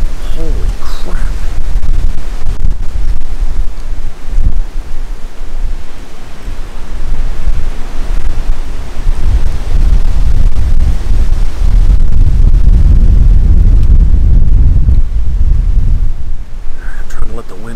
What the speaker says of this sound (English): I'm trying to let the wind die down a little bit before I talk.